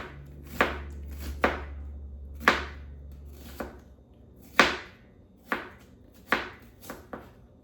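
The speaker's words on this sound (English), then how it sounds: "First thing we're gonna do is we're gonna dice up our onion" A metal knife dices an onion on a cutting board, with about nine crisp, close chops at an uneven pace and quiet gaps between them.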